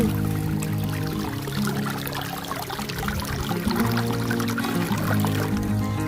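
A mountain stream runs beside a strawberry farm, a steady, full rush of flowing water that is close and continuous throughout, with no voices.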